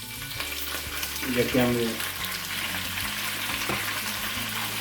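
Butter sizzling in a frying pan while salmon cooks, a steady crackling hiss with a brief bubbling surge early on, close by, and a voice speaking briefly under it.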